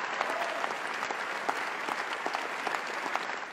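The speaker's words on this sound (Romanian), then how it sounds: "acum iarăși Brad Pitt aplaudă în continuu" Steady, continuous clapping fills the studio of a Romanian talk show, with Brad Pitt applauding nonstop, a dense, even patter with no voices over it.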